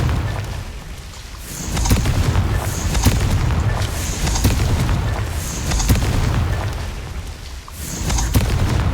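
Repeated Confringo fire spell blasts in Hogwarts Legacy, a series of loud booming explosions and rumbling bursts arriving every second or so over a dense, noisy game soundscape.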